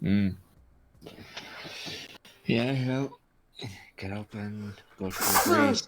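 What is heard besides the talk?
sneeze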